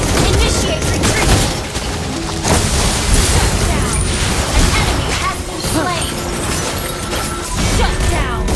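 Granger's ultimate in the Mobile Legends video game fires rapid bursts of gunshots and booms amid dense battle effects, loud and continuous, with game voice lines over the action.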